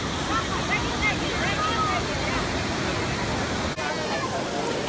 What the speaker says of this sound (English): We're at the waterfalls.